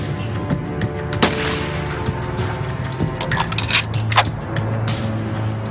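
Sniper rifle shots ring out in a World War II Normandy setting, with a few sharp, isolated cracks standing out against a rumbling background bed.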